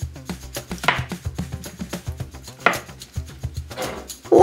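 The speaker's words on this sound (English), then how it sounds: "Let's keep chopping." Repeated knife chops on a cutting board in an uneven rhythm, close and crisp, with a few heavier strikes.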